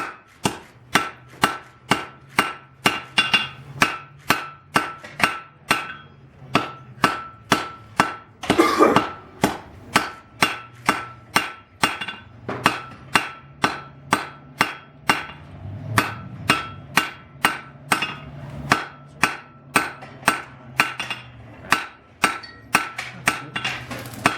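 A blacksmith hammers hot steel to forge-weld a pair of tongs, ringing metallic blows landing in a steady, close, loud rhythm, dozens of strikes with only brief pauses and no talking.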